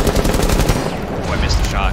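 Rapid automatic gunfire in a competitive video game match, with loud, dense bursts of shots up close, followed by game sound effects, with no talking over it.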